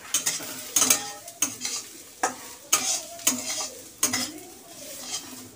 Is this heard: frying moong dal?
yes